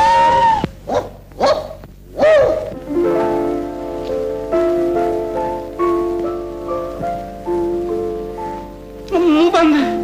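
A dog barks and yips in a dramatic film scene, sharp bursts at the start and end, while background music plays steadily between them.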